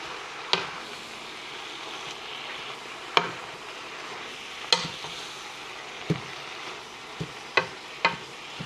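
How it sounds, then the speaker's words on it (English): Collard greens being stirred in a pot, a quiet steady sizzle broken by several sharp scraping knocks of a utensil against the pot at irregular intervals, no talking. "get it all back in the pot. And once again, just gonna give it a nice good mix."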